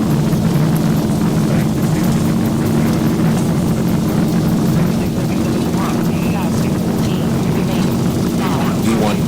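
An airliner's takeoff roll in the X-Plane 12 flight simulator, a Tradewind Airlines departure from Key West, with a loud, steady engine roar and drone holding evenly throughout.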